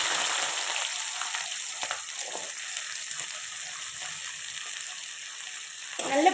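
Shallots and green chili sizzling in hot oil with popped mustard seeds, a steady close crackling fry that flares briefly near the end, with no talking.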